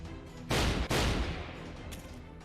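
Two sharp, loud gunshots fire in quick succession in Fate Grand Order, each blast decaying into a fading echo over a low background hum.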